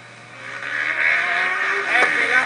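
An electric Formula Student race car on an endurance lap at a circuit gives a whining drive tone that rises as it passes, with a brief sharp click near the end and no voices.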